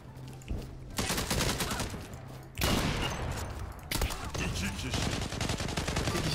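Loud, continuous gunfire from a Çanakkale (Gallipoli) war video game, with sniper shots among dense, rapid bursts that barely pause, and voices faintly underneath.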